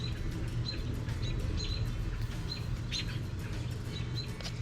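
A bird chirps in short, thin, repeated calls about 25 yards away, faint over steady outdoor background noise with no voices.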